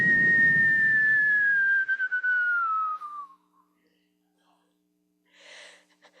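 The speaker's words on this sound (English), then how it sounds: "it makes a whistling sound like it's going down a mine shaft" A trash can's long descending whistle glides smoothly downward for about three seconds and fades out, followed by a brief faint rustle.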